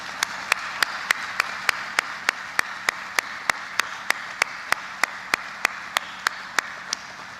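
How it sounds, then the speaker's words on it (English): A round of applause at a Coast Guard change of command ceremony comes through as steady, evenly spaced claps over a soft background hum, more like one nearby person clapping than a full crowd. "I just ask you to join me in a round of applause for each and every one of them."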